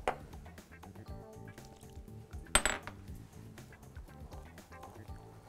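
A utensil stirs flour and water in a bowl for tortilla dough, giving quick scraping clinks and taps against the bowl, close and fairly quiet, with one sharper clatter midway.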